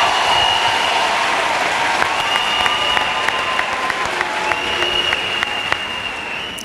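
A church congregation applauds and cheers for Jesus Christ during a testimony service, steady dense clapping from a large crowd filling the room with a few raised voices on top.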